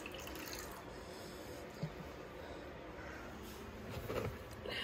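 Faint trickle of water being poured into a pet hognose snake's water bowl, a soft continuous splash with small clinks near the end, quiet and close.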